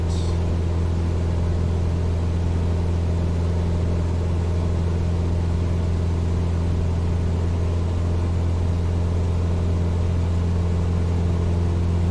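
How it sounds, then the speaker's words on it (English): Small single-engine plane in Microsoft Flight Simulator 2020 running at high power, a constant, even engine drone with a strong low hum that holds unchanged throughout, no voices. "Really pushing the limits of the engine right now."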